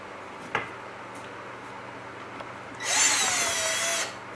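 A power drill drives a screw into a Chauvet Q-Spot 260 LED fixture: one whining burst of just over a second, preceded by a few faint clicks and light handling knocks in a quiet room.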